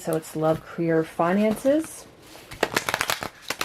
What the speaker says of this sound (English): let me go ahead and start shuffling, and we'll jump right in